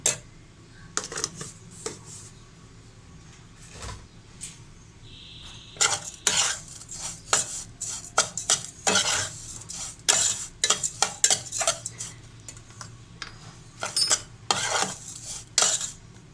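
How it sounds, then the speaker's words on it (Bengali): Vermicelli mixed with sugar being fried and stirred in a pan, dominated by repeated clattering scrapes of a metal utensil against the pan in irregular bursts over a low background, with no talking. "চিনিটাকেও সেমাইয়ের সাথে ভালোভাবে মিশিয়ে নেব। এখন সেমাইটাকে লাল করে ভেজে নেব।"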